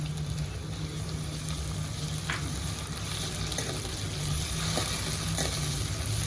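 Curry leaves frying in hot oil, a steady close sizzle with faint occasional clicks of stirring, no one speaking.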